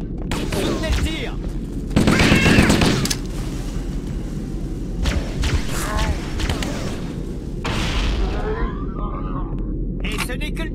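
Gunfire and explosive booms in the Halo video game, with bursts of shots and heavy blasts over a dense, continuous battle din, loudest around the second and eighth seconds, while players talk over the action.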